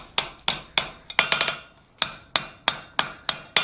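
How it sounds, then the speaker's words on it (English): A hammer strikes hot steel on an anvil while a coal shovel is forged. A dozen loud, ringing metallic blows land in a steady rhythm, with one quick cluster in the middle and a short pause before the final run. "I'm going to come in here and rehammer this out in this area"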